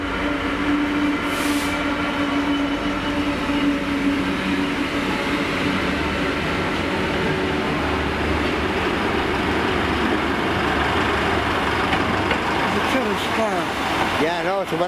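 A train rumbles steadily through Cardiff Central station, wheels grinding and squealing as it nears the end, with people talking over the noise.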